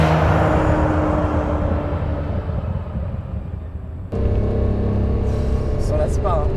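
A Ferrari Testarossa engine runs with a loud, steady, deep droning roar that briefly dips then resumes, while someone talks over it.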